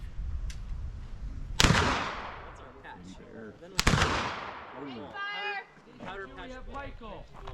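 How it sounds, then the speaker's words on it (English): Two sharp black powder rifle shots ring out a couple of seconds apart, each a loud crack with a long rolling decay, at an outdoor range at Philmont; people talk quietly before and between the shots. "let's go check out black powder rifles"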